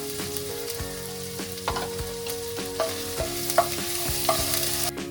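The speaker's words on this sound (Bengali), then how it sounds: "এবার আমি 4 কোয়া রসুন আর 1 ইঞ্চ আদা হাফ গ্রেট করে নিয়েছিলাম দিয়ে দিচ্ছি।" Grated garlic and ginger hit hot refined oil in a pan and sizzle steadily, with repeated clinks and scrapes of a spatula stirring through it, no talk.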